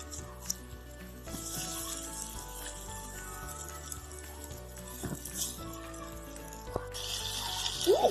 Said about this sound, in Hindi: आप देख सकते हैं 1 मिनट तक मैंने टमाटरों को पकाया ताकि इसमें जो कच्चापन है, जो स्मेल है वो खत्म हो जाए।